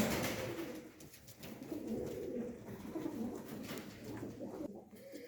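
Soft, low pigeon cooing rolls on continuously, several birds murmuring together in a quiet space.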